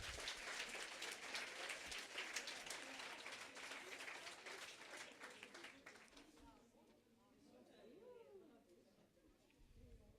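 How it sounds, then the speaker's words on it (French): An audience at a 2017 spelling contest in Saint-Paul applauds a CM2 runner-up, with dense clapping for about six seconds that then fades, leaving a quieter room with a voice and a few scattered claps near the end. "Nous l'applaudissons bien fort."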